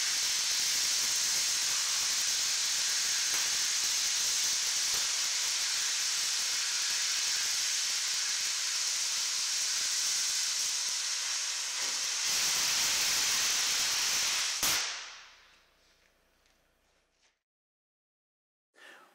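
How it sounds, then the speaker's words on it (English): An oxy-fuel cutting torch on a Bug-O GO-FER cutting steel gives a loud, steady roaring hiss for about fifteen seconds, then cuts off abruptly, leaving near silence. "ignite your torch, and once you've got the metal properly preheated, you would fire your cutting oxygen and make your cut"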